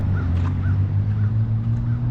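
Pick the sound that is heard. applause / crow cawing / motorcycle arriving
crow cawing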